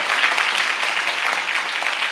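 Audience applause at a Christian testimony gathering, a dense, steady wash of clapping that stays loud and even for about two seconds with no voices on top.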